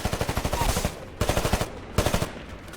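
Heavy automatic gunfire from the Titanfall video game comes in three rapid bursts of loud, closely spaced shots separated by brief gaps.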